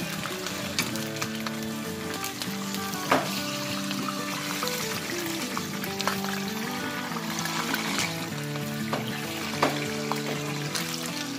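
Hot cooking oil fries and spatters in a pan, a dense continuous sizzle with scattered sharp pops, close and steady throughout, with faint background music underneath.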